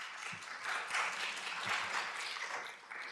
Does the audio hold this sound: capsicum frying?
no